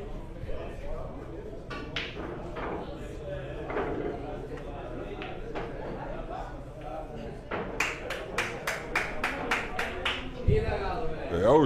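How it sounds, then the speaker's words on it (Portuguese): A short burst of rapid hand claps for a snooker shot breaks out near the end, following a stretch of people talking in a hall during a snooker tournament. "É o Jota aplaudindo a tacada do Matheus."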